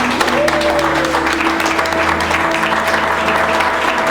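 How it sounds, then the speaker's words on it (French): Audience applause at a youth movement membership ceremony, a dense, loud, continuous wash of clapping from a large crowd, with a faint sustained tone running underneath. "Cela mérite un tonnerre d'applaudissements."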